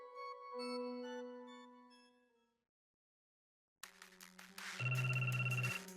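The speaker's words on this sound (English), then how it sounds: "My cell phone suddenly began to ring again." A ringtone from a cell phone in a visual novel video game sounds after a gap of silence, following a soft melodic musical passage, and rings in clear repeated electronic tones.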